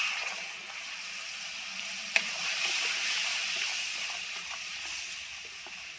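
Spice paste of ground chili, mustard and garlic added to hot oil while cooking mustard katla fish, giving a steady, bright sizzle and hiss that runs throughout with one small crackle.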